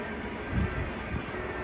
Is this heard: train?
yes